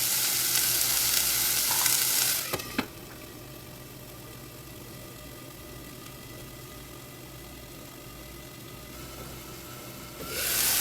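Masala pasta cooks in a pan with a steady low sizzle and frying hiss, louder at the start and end and quieter in the middle, with a sharp clatter near the beginning; no one speaks.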